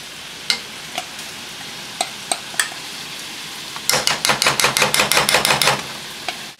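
A utensil stirs a pot of coconut milk, peanut butter and curry on a farm stove, starting with a few scattered scrapes and then a fast, steady run of loud, rhythmic strokes near the end.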